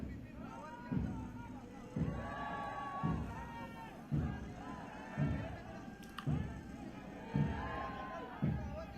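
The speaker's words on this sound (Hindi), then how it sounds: "शमशान घाट के बाहर भी भीड़ मौजूद है।" Crowd gathered outside a crematorium in Delhi during a military-honours funeral, a dense murmur with repeated surging shouts and chants rising every second or so, voices mixed throughout.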